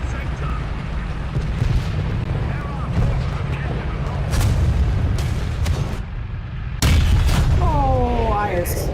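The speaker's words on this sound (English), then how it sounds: "Artillery barrage in your sector." Artillery barrage explosions booming in a War Thunder battle, a run of deep, heavy blasts rolling one after another, with a sudden loud burst near the end and game radio chatter over the top.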